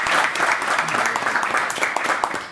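An audience applauds at a gathering of the African traditional crafts coordinating committee, honouring Morocco; dense, steady clapping fills the short span at a moderate distance.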